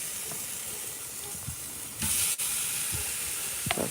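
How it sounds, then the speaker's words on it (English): Low, steady sizzle and hiss of pork chops searing on a hot Primo grill, with a few brief pops and a sharper burst midway. "That sounds like a pork chop getting seared off."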